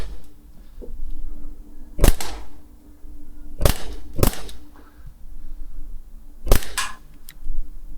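Sharp, close shots from an Umarex Glock 17 air pistol, four distinct cracks spaced irregularly across the span over a low background hum, with no talking.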